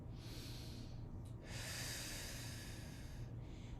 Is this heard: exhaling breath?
yes